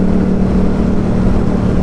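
A Yamaha FZ-07 motorcycle engine drones loudly and steadily while riding, a continuous low rumble mixed with heavy wind noise, with no break over the short stretch.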